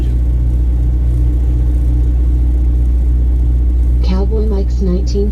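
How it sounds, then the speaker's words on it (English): A car engine rumbles low and steady while driving on a road trip from Richmond to Detroit, Michigan, with a voice briefly speaking near the end. "we got 11 that just want to hear the engine"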